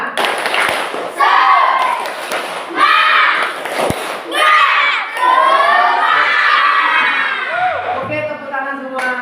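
Schoolchildren in a classroom shout together in loud, rhythmic bursts of a group cheer, with thuds of clapping mixed in and a crowd-like roar rising and falling over several seconds.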